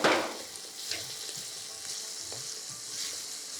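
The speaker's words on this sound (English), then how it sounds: "So immediately I'm adding the chopped tomatoes." Chopped tomatoes land in hot oil with chili powder while cooking paneer butter masala. There is a loud initial burst, then a steady, close sizzle with occasional stirring scrapes and no talking.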